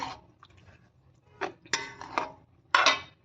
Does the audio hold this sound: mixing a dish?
yes